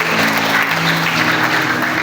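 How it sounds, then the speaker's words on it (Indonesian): A church congregation bursts into sustained clapping during a sermon, a loud, dense and even wash of applause with no voices. "Kita berikan tepuk tangan saudaraku."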